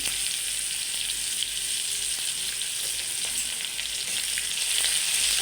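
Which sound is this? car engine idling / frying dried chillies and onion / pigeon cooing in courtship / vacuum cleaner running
frying dried chillies and onion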